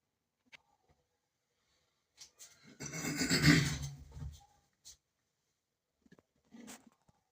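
Coconut being grated by hand in a home kitchen for Jamaican rice and peas: one sustained rasping scrape of about two seconds, framed by a few brief scratches, close and otherwise quiet.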